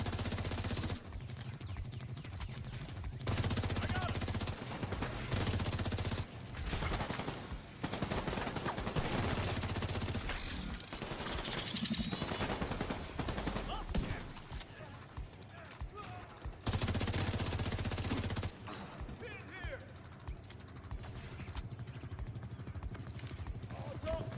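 Rapid gunfire bursts and fusillades from a squad firing in The Division 2, dense and continuous, mixed with game action and occasional talk.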